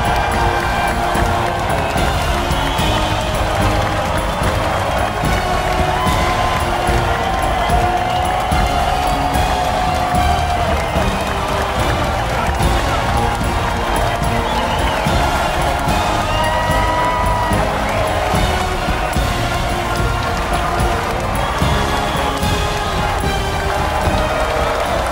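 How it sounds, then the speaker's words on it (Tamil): A large crowd at the JFW Movie Awards applauds and cheers in a dense, continuous roar of clapping and shouting that stays loud throughout. "ஒரு மிகப்பெரிய கைத்தட்டல் ஃபார் லோகேஷ் சினிமாட்டிக் யூனிவர்ஸ் ஒரு கைத்தட்டல் கொடுக்கலாம்"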